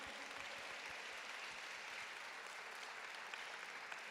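A church congregation claps steadily, a dense, fairly quiet wash of applause that holds evenly throughout.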